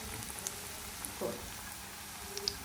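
Potato and onion pakoras frying in hot mustard oil, a faint, steady bubbling hiss with a few soft pops.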